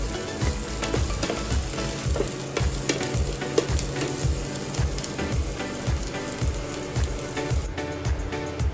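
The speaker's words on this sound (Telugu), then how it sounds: "ఇక అదే ప్యాన్లో మనం కట్ చేసుకున్న ఆనియన్స్ వేసేసి వీటిని కూడా మగ్గే వరకు వేయించాలన్నమాట" Chopped onions fry in a pan for a spinach and onion curry, giving a steady close sizzle with soft rhythmic scraping and stirring strokes throughout, with no talking.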